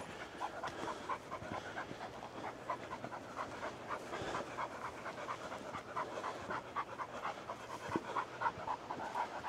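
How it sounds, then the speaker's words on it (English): A dog pants steadily on a coastal village path at Cadgwith Cove, Cornwall, its quick rhythmic breaths close and continuous over faint outdoor ambience. "panting dog"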